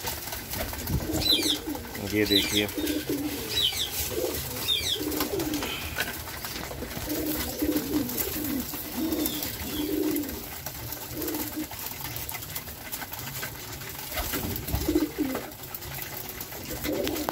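Pigeons kept for morning flying coo repeatedly in throaty bursts around a loft, with scattered flutters and a few higher chirps, while someone talks intermittently nearby.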